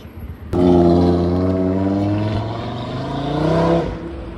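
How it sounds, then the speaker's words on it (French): A Subaru BRZ sports car on a street in Le Havre drives past, its engine note swelling in suddenly and holding loud and close with a rising, revving tone for about three seconds before easing off. No voices. "Petite Subaru BRZ."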